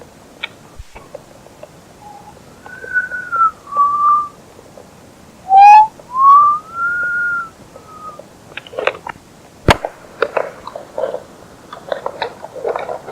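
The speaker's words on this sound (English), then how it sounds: "And now, the call of the loon." Loon call taped at night in front of a campfire, rendered as a few long wavering whistled wails rising and falling, faint and close, followed by scattered clicks and crackles.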